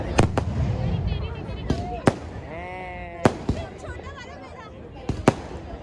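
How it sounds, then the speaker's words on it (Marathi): Fireworks and firecrackers burst at a university convocation ceremony at MIT-ADT University, several sharp, loud bangs and pops scattered over a few seconds above a crowd murmur, with people talking throughout. "फटाके बघा लय भारी लावले"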